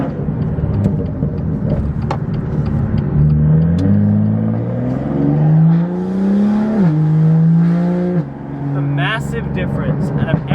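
BMW M car (M2, M3 or M4 with a Thor M Flasher tune, Sport Plus mode) engine rumbling and rising in pitch through a U-turn, revs climbing, dipping once and climbing again, close and steady with talk over it.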